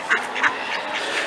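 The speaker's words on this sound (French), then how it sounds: "je vais laisser les canards tranquilles" Several ducks quack nearby on a riverside promenade in Cahors, France, a quick series of loud nasal calls in an uneven rhythm.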